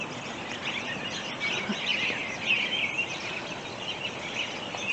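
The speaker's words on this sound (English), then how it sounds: "This tree is full of robins" Robins singing in a tree, a busy chorus of many overlapping chirps and warbles at moderate distance, fairly faint but continuous over soft background noise.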